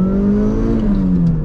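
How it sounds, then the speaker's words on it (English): A supercharged Toyota Corolla XRS accelerates hard in first gear, its engine note climbing steadily and loud throughout with a whirring tone, close and alone without talk. "we'll do a first gear and second gear pull."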